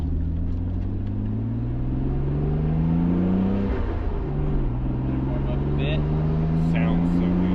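A Nissan Skyline R32, dyno-tuned to over 400 horsepower, accelerates hard with rising engine tones that climb, drop at a gear change near the midpoint, then climb again, loud and close inside the car.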